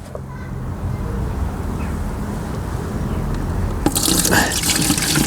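Old coolant poured out of a motorbike into a container, a steady trickling stream that turns into a louder gush and splash near the end.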